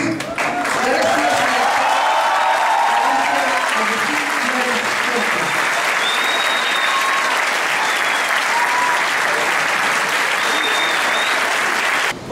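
Audience applause at a university award ceremony for engineering program accreditation, dense sustained clapping from a large crowd holding steady loud for about twelve seconds, with faint voices and cheers mixed in.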